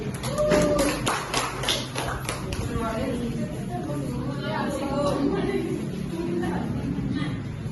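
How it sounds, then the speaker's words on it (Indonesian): Classmates clap for a student during a microteaching lesson in an elementary teacher-training classroom: steady scattered hand claps mixed with room chatter and murmuring voices, moderately loud throughout. "Baik kita berikan aplaus untuk ada Doni"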